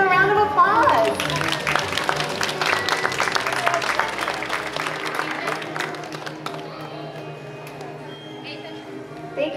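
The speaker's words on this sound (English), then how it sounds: "Let's give them a round of applause." Audience applause for Murata's robot cheerleaders at Epcot's SpectacuLAB science show, a mid-sized crowd clapping steadily over music and chatter, thinning out toward the end.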